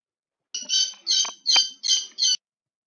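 A pet bird indoors chirps and squawks in five sharp, loud bursts close by, with short gaps between them.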